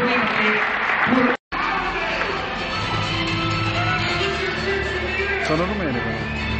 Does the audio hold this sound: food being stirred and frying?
no